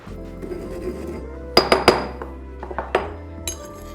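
Smoked salt crunches and clinks in a mortar as a few sharp, distinct strikes and grinding knocks ring out close up, with quiet pauses between the hits and a small rattle near the end.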